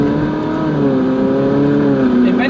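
Ferrari 458 engine droning steadily while driving, a continuous mid-loud revving tone that climbs slightly in pitch with no break over a couple of seconds.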